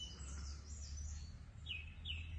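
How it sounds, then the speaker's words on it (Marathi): A few faint, high sparrow chirps sound in the distance over a soft, constant ambient hiss. "तुला चिमण्या पण तुझ्या आवाजाला हे करतात"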